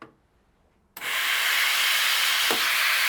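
The steam wand of a Sanremo YOU espresso machine purges with a sudden loud, steady hiss that starts abruptly after a quiet moment and keeps going at full strength, close by.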